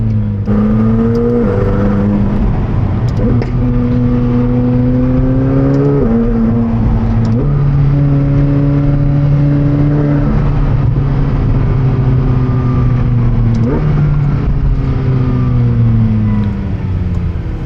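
McLaren 720S Spider twin-turbo MA40T V8 revving while driving, heard from inside the car as a loud steady engine drone that rises in pitch through each gear, with brief dips at the shifts.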